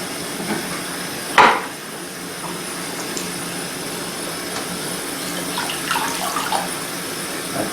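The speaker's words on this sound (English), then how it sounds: "so let's grab the guys out of the salt and the vinegar and rinse them off" Steady running tap water while rinsing coins taken from a salt and vinegar corrosion test, with a sharp clunk early on and faint clinks and splashes under the constant flow.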